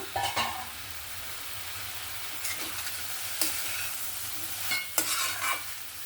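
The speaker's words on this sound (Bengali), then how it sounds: "আমি একবার ঢাকনাটা খুলে আবার নাড়াচাড়া করে নেব" Kohlrabi curry being stirred in a pan over a low gas flame, with a soft steady sizzle beneath scattered scraping strokes of a spoon, a few sharper clinks near the end, no talking.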